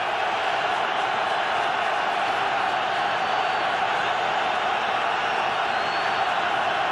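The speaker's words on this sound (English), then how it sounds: "that could be a problem with the crowd noise here at Lincoln Financial Field" A dense, steady roar comes from the football crowd at Lincoln Financial Field during a Giants–Eagles wild card game. The noise stays loud and constant with no breaks.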